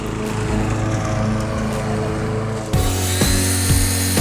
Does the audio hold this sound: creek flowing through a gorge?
no